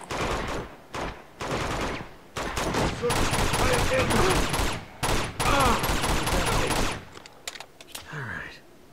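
Bursts of gunfire from the video game Uncharted 2, with repeated rapid volleys of loud shots and short pauses between them, fading into quieter game sounds near the end.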